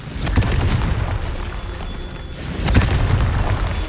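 Two punchy Confringo spell blasts in the Hogwarts Legacy video game, each a short booming burst over a busy, loud backdrop of combat noise.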